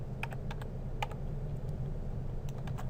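Rapid, uneven clicking of computer keys as a spreadsheet file name is typed in Excel, close and steady over a low background hum.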